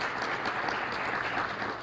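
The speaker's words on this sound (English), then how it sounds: "Please give them a warm applause, both of them." A lecture audience at a university keynote applauds steadily, many hands clapping in a dense, even roar that holds throughout the short stretch without anyone speaking.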